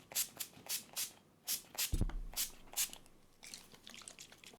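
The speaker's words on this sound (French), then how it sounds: "je vais maintenant appliquer un petit peu de spray fixant" NYX matte finish makeup setting spray hisses in a quick run of about eight short, sharp, close pumps, followed by a softer, fading spray at the end.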